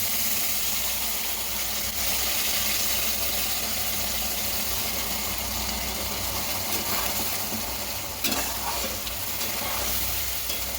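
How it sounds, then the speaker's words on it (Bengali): Onions frying in a pan with a steady sizzle throughout, stirred with occasional scraping and clinks, a louder stir knock near the end; no talking. "আমার পেঁয়াজটাও অনেকটা ভাজা হয়েই গেছে"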